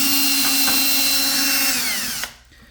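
A power drill mixing skim-coat slurry in a bucket whirs steadily at close range, its motor pitch sagging slightly under load before it cuts off abruptly.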